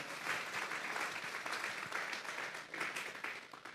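Church congregation at a Sunday service gives a sustained round of applause, a faint, dense wash of many hands clapping steadily from a distance with no speech over it.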